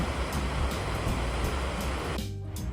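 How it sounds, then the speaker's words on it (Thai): Broad, steady rush of a river flowing beneath a footbridge in Engelberg, Switzerland, a continuous loud wash of water heard alone with no voices. "เนี่ยเดินข้ามสะพานมาก็จะเจอด้านล่างเป็นแบบแม่น้ำสวยเนาะ"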